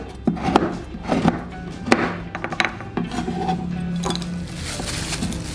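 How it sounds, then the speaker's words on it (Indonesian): Palm sugar is shaved finely for a fish-head mangut dish, giving irregular woody scraping and rasping strokes with occasional soft knocks, close and fairly loud, with no talk. "Gula merahnya kita sisir halus."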